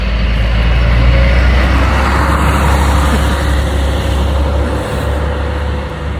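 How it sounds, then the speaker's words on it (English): A school bus drives past at close range on a road in the cool early morning, its loud, steady engine rumble and tyre roar filling the whole stretch with no talk. "School bus."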